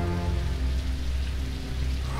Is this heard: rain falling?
yes